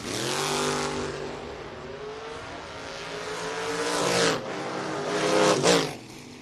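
Drag race cars, a 1955 Chevrolet Bel Air and a 1990 Ford Mustang, roar hard at a footbrake drag strip, engines revving loudly and climbing in pitch as they launch and pull away, with sharp peaks near the end.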